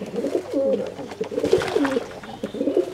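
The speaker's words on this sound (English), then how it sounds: "the racing pigeon is in here along with its partner" A racing pigeon coos in low, throaty, repeated rolls close by inside its enclosure with its partner, the soft calls running nearly continuously with faint background noise.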